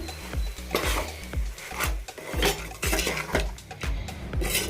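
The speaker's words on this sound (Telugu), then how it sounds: "దీన్ని రైస్కి బాగా పట్టేలా కలుపుకుందామండి" Rice being stirred into a fried gongura paste in a metal pan, a spoon scraping and clanking in a steady rhythm of repeated strokes, close and fairly loud with no talking.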